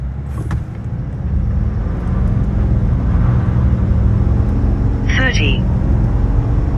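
A diesel heavy-duty pickup with an 8-speed transmission, either a 2026 Ford F350 Power Stroke or a RAM 3500 Cummins, drones steadily from inside the cab as it pulls toward 60 mph, a loud constant low rumble with a short squeal partway through.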